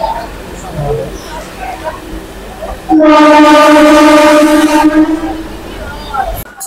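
Rumbling train noise with a loud, steady horn blaring for about two seconds in the middle before fading back to the rolling background.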